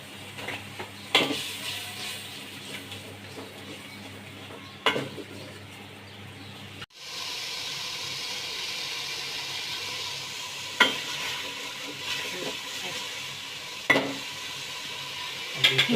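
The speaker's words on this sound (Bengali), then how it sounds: "লবণ দিয়ে নাড়াচাড়া করে নেব, তার পুরো মশলাটি মিক্স করে নেব নাড়াচাড়া দিয়ে।" Haleem spice masala being stirred and fried in a pot with salt, a steady close sizzle broken by sharp scrapes and knocks of the spoon against the pot, the frying growing louder partway through.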